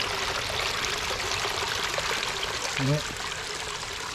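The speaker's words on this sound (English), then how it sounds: "But this is the first waterfall." Water spills steadily down a small pondless waterfall into a little reflection pool in a Japanese-inspired garden, a continuous close trickling rush with a brief spoken phrase near the end.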